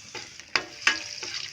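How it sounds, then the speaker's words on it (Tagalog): Chicken afritada being stirred in a frying pan, with low sizzling under scraping, and two or three sharp utensil clacks against the pan spaced through the short stretch. "Haluin natin ang ating chicken."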